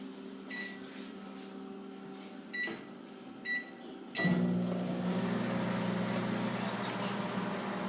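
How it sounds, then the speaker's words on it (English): A microwave oven heating enchiladas: a few sharp beeps and button clicks, then a door thud and the steady hum of the running oven continuing to the end. "Now you put the enchiladas in the microwave for 3 minutes."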